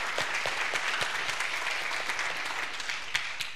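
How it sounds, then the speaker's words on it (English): A room full of people in a church service applauds steadily, the clapping sustained and fairly even throughout, with a few sharper claps standing out near the end. "Will you stand up so we can applaud?"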